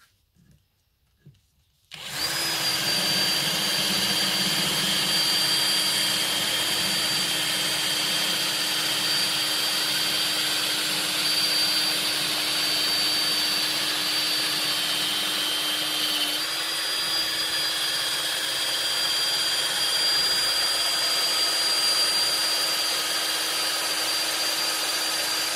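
A power tool drives a wooden dowel through a 6 mm hole in a homemade dowel jig. It starts abruptly and runs as a loud, steady whirring roar for over twenty seconds, with a slight shift in pitch partway through.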